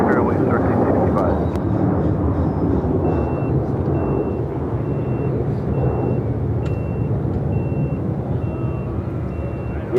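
A jet airliner at Los Angeles International Airport gives a loud, steady roar that swells slightly and then holds. Faint tones run through it, and no voices are heard.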